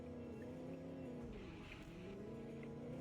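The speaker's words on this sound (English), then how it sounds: "I'm still hearing a lot of tires screeching though" Porsche 718 GT4 RS Cayman, fully tuned, driven on a racetrack, with its engine droning steadily up close and tire squeal rising over the top midway through.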